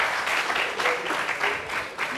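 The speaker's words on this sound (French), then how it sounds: "Bravo, ça s'applaudit." A studio audience on a televised show claps for a couple of seconds, a soft steady patter of applause at a modest level with a voice faintly present.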